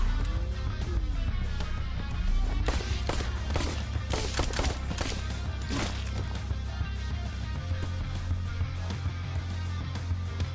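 Gunfire in a video game, a series of sharp, loud shot cracks clustered in the middle with scattered bursts before and after, over a steady low background hum with no voices.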